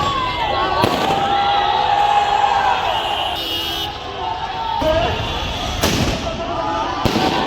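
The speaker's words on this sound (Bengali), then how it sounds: "এখানে আতশবাজি ফুটিয়েছি" Fireworks go off at a commemoration unveiling a memorial plaque for July martyrs in Mirpur: several sharp bangs and whistling rockets over a loud, cheering crowd with voices shouting throughout.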